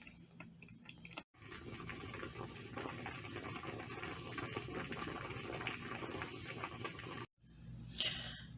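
Rice bubbles steadily at a rolling boil in a pot on the stove, a dense, continuous watery seethe with a brief hush near the start and again near the end.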